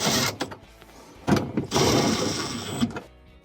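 Short bursts of a small motorized screwdriver whirring as screws are tightened on a refrigerator's adaptive defrost control part, close up, with brief pauses between runs.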